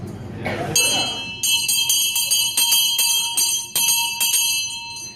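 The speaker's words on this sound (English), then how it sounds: "Would you like to hear the bell?" A voice speaks briefly, then a bell is struck repeatedly, each clear metallic clang ringing out and overlapping the last in an uneven rhythm.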